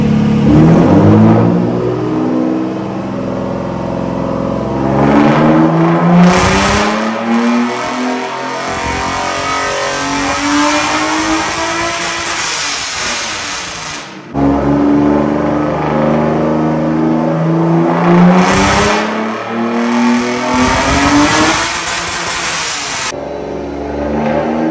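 A Mercedes-Benz W124 with a straight pipe exhaust revs repeatedly, loud and close, its engine note climbing and falling in several throttle blips with raspy roar throughout and no talking.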